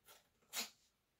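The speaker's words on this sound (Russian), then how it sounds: "кошка у меня сзади здесь чихает." A cat sneezes once behind the speaker, a short, faint, sharp burst of breath near a quiet room, preceded by a soft sniff.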